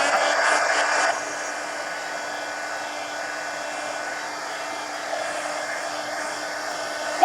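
A hair dryer blows on a mixed media journal page to dry wet acrylic paint, giving a steady, close whooshing hum that drops slightly in pitch after about a second and runs alone.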